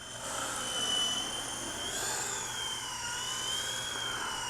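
FeiLun FX070C flybarless toy RC helicopter flying nearby, a thin high-pitched electric whine with wavering pitch as it maneuvers, steady and fairly faint.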